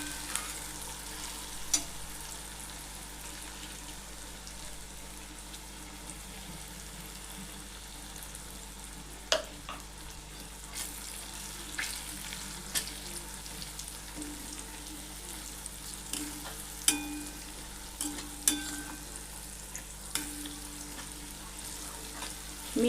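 Spices fry in a pan for Punjabi chole masala, a steady soft sizzle with occasional clinks and stirring scrapes, fairly quiet and close.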